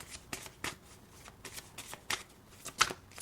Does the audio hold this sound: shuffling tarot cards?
yes